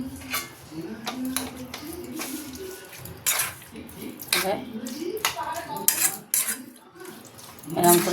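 Prawn chorchori ingredients mixed with tomato sauce in a bowl: irregular clinks of a spoon and utensils against dishes, close, with some watery squelching and a voice speaking briefly in between.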